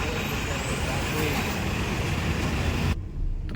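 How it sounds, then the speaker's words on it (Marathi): Dense road traffic rumbles steadily in a jam near Atal Setu, with trucks, buses and cars idling and creeping close by, a continuous broadband roar that drops off abruptly near the end. "अटला पण लागले जाम ट्रॅफिक."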